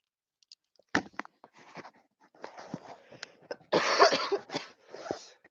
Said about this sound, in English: I didn't want to cough into the mic